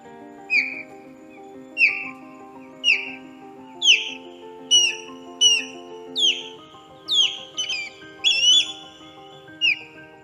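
A bird on the St Johns River repeats a sharp, whistled call about a dozen times at a steady pace over a sustained low droning tone.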